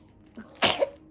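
A single short sneeze bursts out close by, with a faint intake just before it and a breathy, hissing explosion that fades quickly against quiet room tone.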